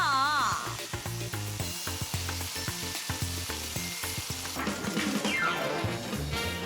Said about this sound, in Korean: 여기에 잡냄새를 한 번 더 잡아줄 파무침을 넣어 양념이 잘 어우러지도록 살짝 볶으면 색깔부터 맛있다